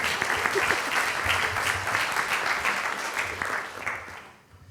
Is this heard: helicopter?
no